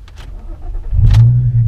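A car engine cranks briefly, then catches and settles into a loud, close, rumbling idle with a slight rev.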